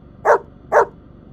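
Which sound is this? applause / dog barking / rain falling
dog barking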